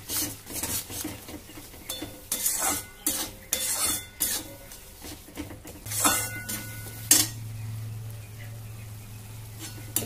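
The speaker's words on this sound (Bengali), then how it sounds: "টক দইটা দিয়ে ভালো করে কষিয়ে নেব" A spoon scrapes and clinks against a pan while fish curry masala with yogurt is stirred and sautéed over low heat for Bengali katla kalia, with repeated bursts of scraping and a faint sizzle beneath.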